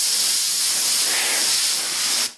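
Compressed air blasts steadily over car paint before inspection during polishing with a one-step compound, a loud continuous close hiss that cuts off abruptly at the end.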